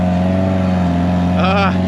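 Off-road crawler buggy with a sideways-mounted Dodge Neon engine and transaxle, droning steadily up close as its tires stall out on an obstacle at an OHV park, with a brief higher rising whine near the end.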